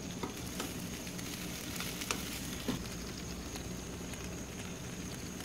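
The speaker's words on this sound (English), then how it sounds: "I'm just going to finish those off with the lid open and grill them on high right now" Chicken wings sizzling on GrillGrates over a high burner of a ProChef grill with the lid open, a steady dense crackling hiss with scattered pops throughout.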